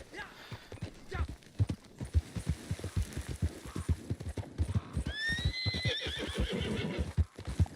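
In Red Dead Redemption 2, a horse trots up with steady clip-clop hoofbeats close by, then lets out a loud, wavering whinny midway while the hooves keep thudding underneath.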